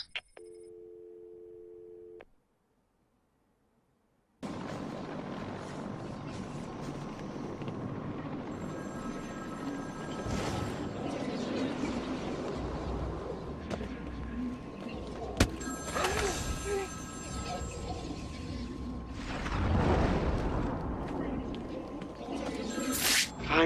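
A telephone rings in the Batman: Return to Arkham City video game, a short electronic tone followed by a pause, then a steady ring over a noisy city ambience with occasional louder bursts.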